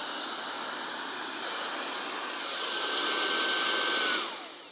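A handheld vacuum cleaner on its lowest of four settings runs steadily, a loud, even whirring rush of suction pulling up dust that holds constant before dropping away at the end.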